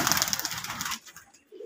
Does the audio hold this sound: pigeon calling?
yes